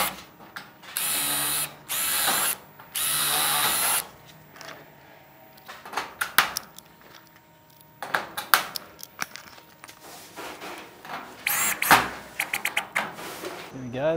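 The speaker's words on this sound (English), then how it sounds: "so I'll have to put another screw at the bottom here." A power drill drives a screw into the bottom of Klip-Lok metal roof barge capping flashing, with several whirring bursts early on, followed by clattery handling noises and speech.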